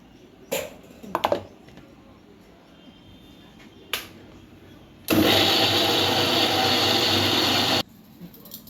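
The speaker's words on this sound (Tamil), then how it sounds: "மறுபடியும் இதை எடுத்து மிக்சியில் போட்டு இன்னும் கொஞ்சம் தண்ணி விட்டு அரைங்க." A few sharp clicks and knocks come first, then a kitchen mixer grinder roars loud and steady for about three seconds, blending cucumber, ginger, mint, salt and water, and stops abruptly.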